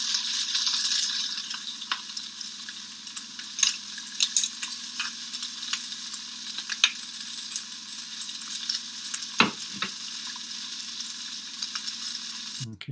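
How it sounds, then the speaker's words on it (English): Stir fry sizzles steadily in a pan, a dense hissing crackle with occasional sharp clinks and scrapes of a utensil, recorded close on a phone voice memo with no talking. "now that sounds like frying"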